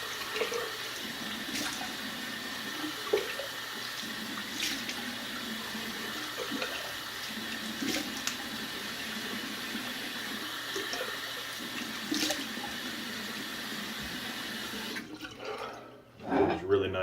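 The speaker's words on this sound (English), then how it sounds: "Cold water rinse." Cold water runs from a tap for a face rinse, a steady hissing flow that stays even for most of the time before breaking off near the end, with small clicks now and then.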